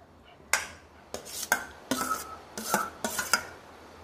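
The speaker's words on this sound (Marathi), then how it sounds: "आता एक बाउलांत हांव शिंदिलेले अवनास घालतस" Cut pineapple pieces dropped into a bowl: five or six distinct clinking, scraping impacts at irregular intervals, close and moderately loud, with soft rustling between them.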